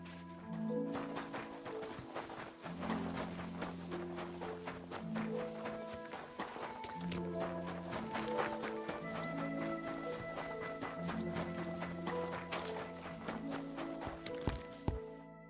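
A horse walks in Kingdom Come: Deliverance II, its hooves clip-clopping in an even rhythm over a layered background of game ambience and music.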